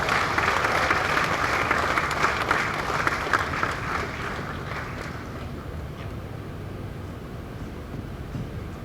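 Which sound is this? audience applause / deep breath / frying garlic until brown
audience applause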